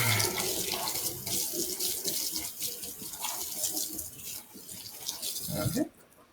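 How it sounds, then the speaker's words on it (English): Something being rinsed in a kitchen while baking DoubleTree cookies: a loud, close stream of running tap water splashes steadily for several seconds, then cuts off abruptly near the end. "we're going to rinse this off a little bit."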